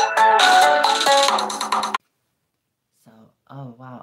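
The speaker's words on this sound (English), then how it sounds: "I had a phone call come in." A phone rings with an incoming call during a Coleco Cabbage Patch Kid doll restoration: a loud, bright ringtone melody plays for about two seconds, cuts off abruptly, and after a silence a person starts talking.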